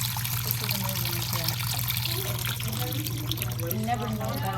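Liquid is poured back out of a measuring cup while measuring ingredients for Turkish tursu pickles, a steady close trickle running the whole time with faint voices murmuring underneath.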